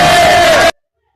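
A jubilant crowd in Meru receives Rigathi Gachagua, a loud wall of cheering and shouting that cuts off abruptly into silence.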